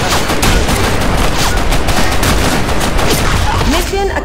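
Video game battle with dense, continuous gunfire and shell fire, loud and unbroken throughout, with rising tonal whistles near the end.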